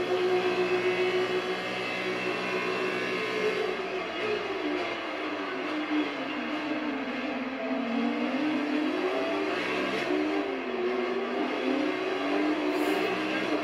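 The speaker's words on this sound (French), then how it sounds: "Alors, c'est de la Formule 2, hein." Formula 2 race cars at the Australian Grand Prix, a continuous engine roar with rising and falling pitch as cars pass at a distance, steady and fairly loud with no talk.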